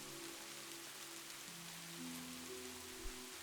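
Steady rain falls in a continuous, even hiss, quiet and layered, with no voices and one soft low thump near the end.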